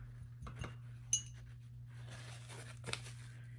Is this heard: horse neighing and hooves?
no